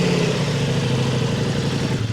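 A stock Ducati Multistrada V4 RS with its stock exhaust runs close by, its engine note steady and rough with a throbbing pulse, and no voices over it.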